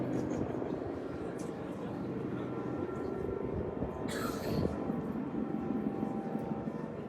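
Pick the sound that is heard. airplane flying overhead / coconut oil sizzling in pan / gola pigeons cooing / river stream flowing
airplane flying overhead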